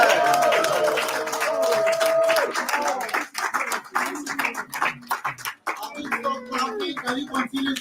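A political rally crowd claps loudly, with dense hand-claps ringing out alongside a speaker's raised voice and scattered shouts from the audience.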